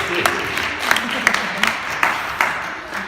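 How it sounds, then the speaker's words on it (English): An audience claps for a volunteer, a moderate patter of applause with a few sharper, louder claps standing out, while some talk carries faintly beneath it. "Give him a clap"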